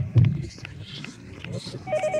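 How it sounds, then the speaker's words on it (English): An electronic telephone ring sounds faintly in the background of the game Yomawari: Midnight Shadows, partly buried under a person talking and other game noises. "Why is a telephone ringing?"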